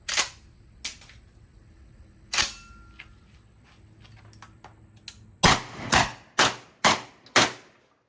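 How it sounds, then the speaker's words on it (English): A Core 12 shotgun fired with buckshot: sharp, loud reports, a few spaced shots early and then a rapid string of five blasts close together near the end. "that was some buckshot we had loaded up"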